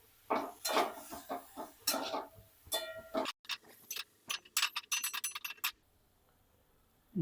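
A spoon stirs raw potato, carrot and beans in a metal pan for veg pulao, giving close bursts of clattering scrapes and a quick run of sharp metallic taps, then near silence.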